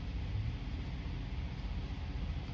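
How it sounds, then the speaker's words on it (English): A steady, low whirring hum of an air conditioner runs continuously, faint and unchanging, with no one speaking. "if you hear like a weird noise in the background, that's the AC"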